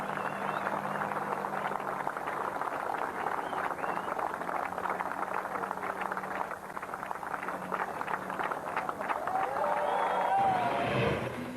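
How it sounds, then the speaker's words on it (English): A crowd cheers and claps at a Class 1 offshore powerboat race in Plymouth, a continuous wash of distant applause and voices beneath a commentator, with a sharper swell near the end. "most of the crowd staying behind to celebrate"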